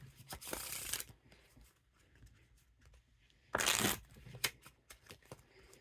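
Vouge Pro playing cards riffle shuffled, two loud close bursts of rapid fluttering card riffles, the second followed by a few sharp taps as the deck is squared.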